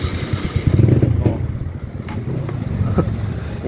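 A Honda Wave125 motorcycle with a faulty starter relay catches and settles into a close, uneven idle, its low engine putter and clatter loud at first and then steadier.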